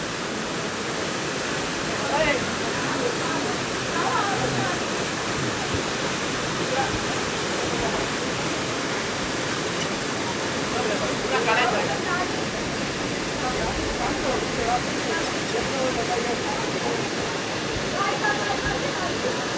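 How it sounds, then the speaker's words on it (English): Rushing water at Randha Waterfall, a dense, steady roar of falling water filling the whole scene, continuous and loud with no clear pauses. "Here comes the waterfall. This is Randha Waterfall."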